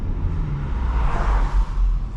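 Steady low engine drone and road rumble from a BMW 440i heard from inside the cabin while driving slowly in traffic, with a faint swell of intake noise midway.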